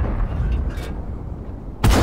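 A tank cannon fires gold rounds in World of Tanks (Object 430), a sharp booming shot at the end following a low rumbling engine drone.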